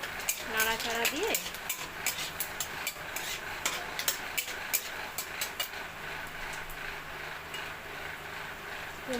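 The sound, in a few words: stirring dried chillies and panch phoron frying in oil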